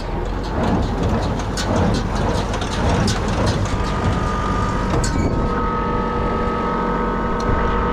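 A Kubota tractor strains to drive a Claas baler packing hay that lay rained on for half a month, its engine a loud, steady, unbroken roar with dense mechanical clatter throughout.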